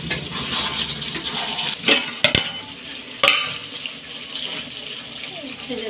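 Meat frying in ghee while being stirred, a steady loud sizzle broken by a few sharp clanks of a spoon against the pan.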